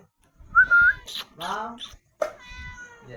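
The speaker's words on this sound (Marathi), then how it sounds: "वाघाची मावशी म्हणली जाणारी मांजर आमच्याकडे बघू शकता" A cat meows a few times, close and clear, with short pauses between the calls and no talking over them.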